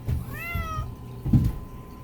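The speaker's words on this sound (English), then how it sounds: "See, we got our helper kitty" A house cat gives one short, clear meow near the listener, followed by a couple of soft low thumps in an otherwise quiet room.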